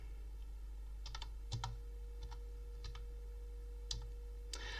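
Keys clack on a computer keyboard while a table is typed into an Excel spreadsheet, a sparse run of quick separate clicks and short bursts, close but quiet over a low steady electrical hum.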